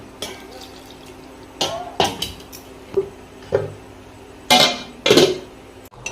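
Water is poured into chicken besara cooking in a pan, giving a few close splashes and metallic clatters spaced over several seconds, then a louder sizzling burst near the end; no one speaks.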